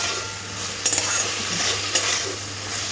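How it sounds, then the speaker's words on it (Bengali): Ridge gourd stir-fried with spices in a pan, a steady hiss of frying with two brief utensil clinks, close up and without speech. "ঝিঙেটা একটু মশলার সাথে কষে নিতে হবে।"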